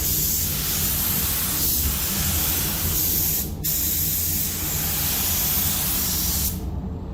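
Spray gun applying base and clear coat to a 1960 Chevrolet Impala in a home setting: a steady, loud hiss of atomized paint runs throughout, with short breaks in the spray near the middle and end.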